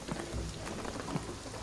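Steady rain pours in the video game Shadow of the Tomb Raider, a dense continuous hiss with a few low rumbles of thunder, heard alone with no talking.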